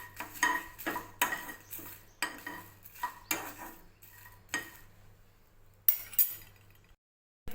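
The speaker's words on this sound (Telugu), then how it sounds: "ఎండుమిర్చి కరివేపాకు 2 కలిపి ఫ్రై చేసుకుంటున్నాను నేను" Dried red chilies and curry leaves are fried in a pan for rasam powder, with a spatula stirring and scraping in repeated rhythmic strokes and metallic clinks, close and fairly quiet, ending in a brief silence.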